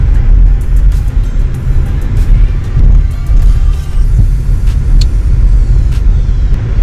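Steady low rumble of a car driving around a university campus in Arlington, Texas, heard from inside the vehicle as a continuous road and engine drone with faint scattered clicks.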